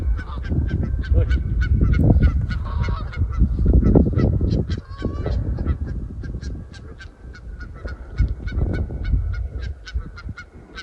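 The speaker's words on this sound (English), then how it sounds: "There's a goose war going on." A flock of geese honks loudly and continuously in a squabbling outdoor chorus near water, dense overlapping calls with no pauses.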